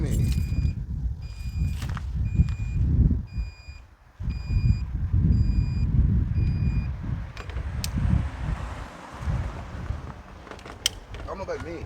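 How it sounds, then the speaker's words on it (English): Repeated short electronic beeps from a vehicle sound at a steady rhythm through the first seven seconds, with people talking over them in a busy outdoor space. "What's the beeping mean?"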